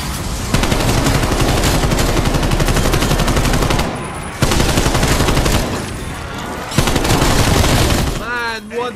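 Sustained rapid automatic gunfire from Call of Duty Cold War Zombies with a purple anime tracer pack, dense and loud. It comes in three long bursts with short gaps between them, and in-game sound effects follow at the end.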